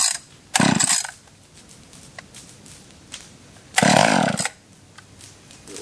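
A Stihl 020AV chainsaw is hot-started, its engine catching in two loud bursts of revving between quieter stretches of faint idling and mechanical clatter, close by with no talk.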